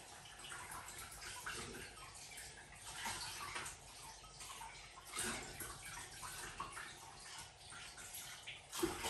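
Dishes being washed under running water produce a faint continuous splashing and trickling with occasional soft clinks, distant and low in level.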